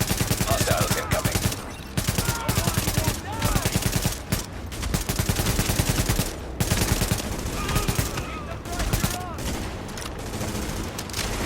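A firefight in the shooter game The Division, with dense bursts of automatic gunfire and single shots cracking in quick, uneven clusters. The shooting is loud and close, with brief lulls between volleys.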